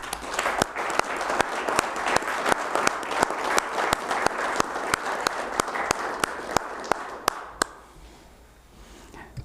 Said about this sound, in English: So I'd like to give him a round of applause and thank him for all that time